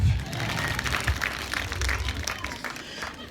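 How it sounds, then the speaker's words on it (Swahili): A church congregation bursts into sustained applause, dense hand clapping filling the room steadily for several seconds, with a low murmur of crowd voices underneath. "mpigie Yesu wetu makofi"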